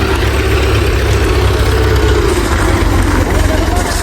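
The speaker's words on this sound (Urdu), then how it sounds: "اب یہ والا ٹریکٹر جو ہے یہ بھی بیک ہو رہا ہے" A tractor engine rumbles at low revs as it reverses, a steady loud chugging drone with a faint whine rising and falling, voices talking lightly over it.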